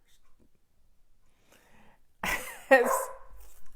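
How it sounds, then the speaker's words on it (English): A dog in a home gives a sudden burst of one or two sharp barks after near silence, close and fairly loud. "Because the dog started barking."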